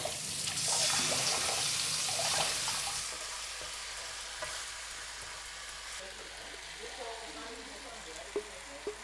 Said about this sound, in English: So I'm taking the meat and I'm kind of separating it from the vegetables